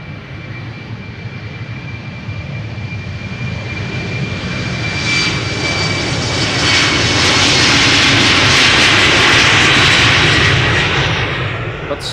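KLM Embraer jet engines at Amsterdam Schiphol spool up close by, a rising whine and roar swelling steadily louder over several seconds before holding at full power.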